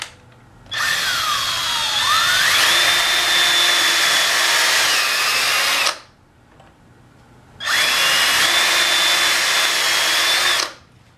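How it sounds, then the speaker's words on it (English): A power drill bores holes into wood for an instrument storage rack, two loud whining bursts of several seconds each with a short pause between, the motor pitch rising as it runs, close up and with no talk. "Now start by drilling some holes."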